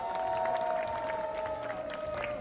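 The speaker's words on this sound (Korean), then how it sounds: "박수 한번 부탁드립니다" Crowd applause and cheering at an outdoor protest rally, with steady clapping and a sustained tone running beneath the noise throughout.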